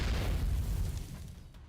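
A heavy explosion from a direct hit on a guard post in the video game NIKKE, a loud deep boom that rumbles and slowly fades over under two seconds, with no talk.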